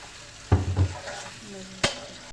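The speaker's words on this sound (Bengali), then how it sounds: "মশলাটা ভালোভাবে কষানো হয়" Brief sizzling of spice paste stir-frying in a pan, with a couple of stirring scrapes, a short burst of frying noise between quieter moments.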